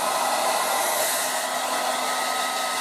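A Revlon 1800W dual-speed hair dryer on its warm setting blows steadily close by, a constant airy whoosh with a faint motor whine and no pauses.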